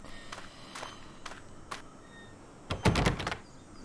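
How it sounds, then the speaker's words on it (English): A locked door in an Agatha Christie mystery game rattling and thudding in its frame without giving way, a burst of several quick knocks and shakes after a few fainter taps. "The door will not budge."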